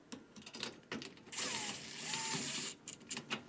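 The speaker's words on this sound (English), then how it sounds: "Tighten both screws, but be sure to not over-tighten." Two small T15 screws being driven into the mounting holes of a Frigidaire range control panel, with clicking ratchet-driver turns and a sustained whirring stretch, close and moderately loud with no talk.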